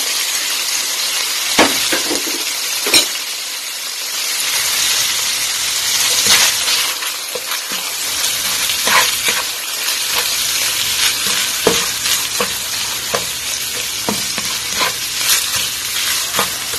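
Ground pork sizzling and frying in a pan with onion and garlic, a steady hiss with scattered crackles and stirring clinks throughout, no talking.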